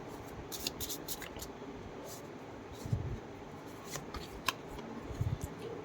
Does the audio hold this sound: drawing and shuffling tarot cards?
yes